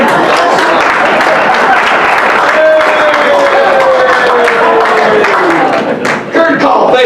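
An audience claps at a luncheon, a dense, loud, steady wash of applause mixed with crowd noise that holds for several seconds and dips briefly near the end.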